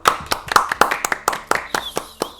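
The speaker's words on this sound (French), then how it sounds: "J'ai envie qu'on s'applaudisse" A small group claps hands a short way from the microphone, sharp, uneven slaps in a quick, loose rhythm, with a faint voice briefly underneath.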